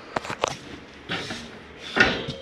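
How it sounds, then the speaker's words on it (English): A pan drawer in an XLR 33DK RV kitchen opens or closes with a few close, sharp knocks and clatters, then a short sliding rumble and a final louder thud. "I also have a pan drawer."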